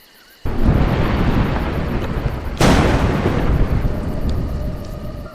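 Thunder rolls as a loud, sustained broadband rumble in the video game A Juggler's Tale, breaking into a sharp crack partway through before rumbling on, with no voices.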